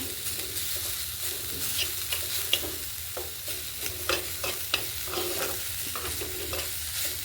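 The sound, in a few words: frying borma greens with garlic and onion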